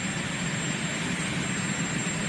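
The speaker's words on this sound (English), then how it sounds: "the heavy noise of those helicopter blades turning as he walks from Marine One there" Heavy, steady roar of the presidential helicopter Marine One with blades and turbines running, a loud continuous engine drone with a thin high whine, heard close and alone with no talk.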